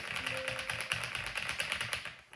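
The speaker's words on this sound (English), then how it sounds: "So you'll see as I type here" Typing on a computer keyboard at a desk with a 27-inch gaming monitor, a quick steady run of light clicky taps that continues throughout at moderate volume.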